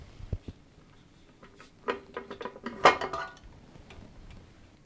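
A white painted metal beauty dish for studio lighting is handled close by, giving scattered light clinks, taps and scrapes, with one brighter metallic ring in the middle and quiet handling noise between.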